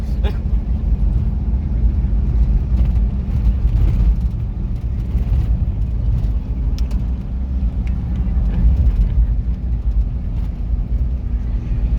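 A Toyota Hilux truck moving at highway speed gives off a steady, loud cabin rumble of engine and road noise that holds throughout, with a voice speaking over it in places.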